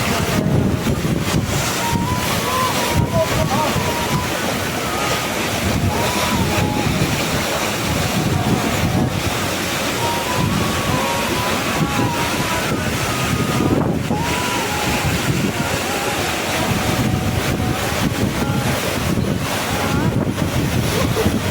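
Strong wind blowing hard and steadily by the sea, a loud continuous roar with rushing surf beneath it that never lets up.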